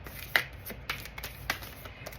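A deck of cards is shuffled quietly, with a few soft riffling bursts and taps spread over two seconds.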